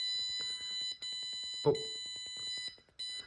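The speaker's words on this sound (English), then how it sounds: "if a predator walks in here, it will trigger the buzzer, which will alert the chicken" A distance-sensor chicken coop security system sounds its alarm buzzer, a shrill high electronic tone pulsing in rapid steady beeps with brief gaps, loud and close, and a short exclamation from a person partway through.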